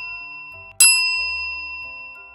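A single bright bell-like notification chime rings out sharply, then its tones ring on and slowly decay in a quiet setting.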